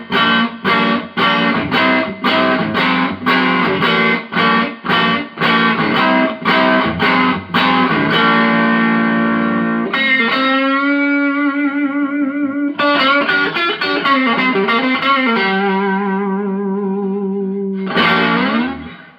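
An electric guitar played through a Joyo Vintage Overdrive pedal, volume on 10, tone near 7 and gain around 4, chugs loud staccato chords, then rings out sustained notes and slides, closing on a final strummed chord.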